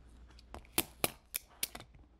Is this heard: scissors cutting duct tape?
yes